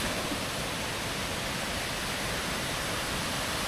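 A forest waterfall throwing up rising spray roars as a steady, loud, dense wash of noise, unbroken and close for the whole stretch.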